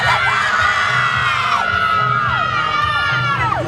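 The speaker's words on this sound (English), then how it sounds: "Can you give us your biggest cheer for the Knights?" A girls' rugby league team cheering for the Knights at a women's NRLW match, loud sustained high-pitched shouting and whooping from a close group of young voices, with sliding yells throughout.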